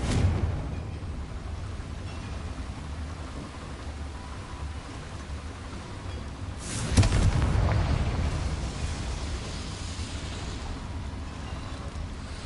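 A Confringo fire-blasting spell from the Hogwarts Legacy video game on PS5 bursts out as a single loud, deep explosion partway through. Its rumble trails off over a steady hiss like rain.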